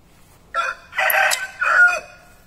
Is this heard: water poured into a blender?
no